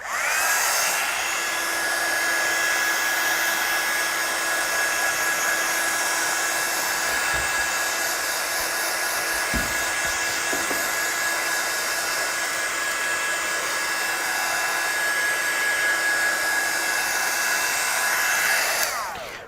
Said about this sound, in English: I'm just going to do a quick blast of the heat gun again